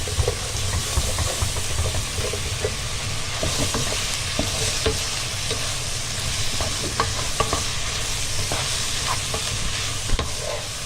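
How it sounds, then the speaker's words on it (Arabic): Onion stirred through tomato sauce in a hot pan, a continuous bubbling sizzle with frequent scraping and clicking of a spoon against the pan, steady and close throughout. "نقلب البصله في الصلصه"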